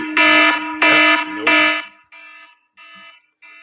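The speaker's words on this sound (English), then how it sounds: "It's been a while since the last time the buzzer went off" A harsh electronic alert buzzer sounds three loud, even blasts of about half a second each, followed by three fainter, shorter echo-like repeats tapering off.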